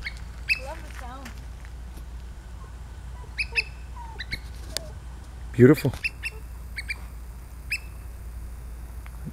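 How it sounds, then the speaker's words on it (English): Three oystercatchers calling on the shore at Salt Spring Island, with sharp piping bird calls scattered across the clip. One louder, closer burst comes near the middle. A brief spoken word is heard. "There's three oyster catchers there."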